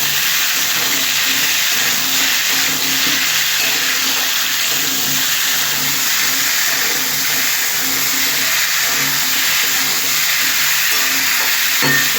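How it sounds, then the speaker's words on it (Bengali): Potatoes sautéing with salt in a pan for a ridge gourd, potato and poppy seed dish give a steady, close, loud sizzling hiss that runs unbroken throughout, with faint scraping underneath. "এবার আমি যতটা পরিমাণ লবণ লাগবে লবণটা দিয়ে দিলাম, দিয়ে আলুগুলো একটু কষিয়ে নেব"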